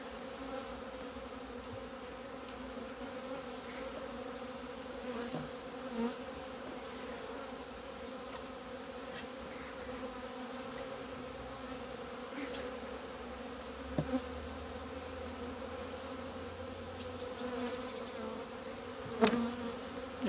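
Honey bees hum in a continuous low drone inside a hive, steady and close, with occasional faint clicks and knocks.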